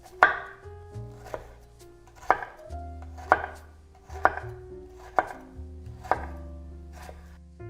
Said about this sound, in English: make vertical cuts across the onion, being careful not to cut through that root end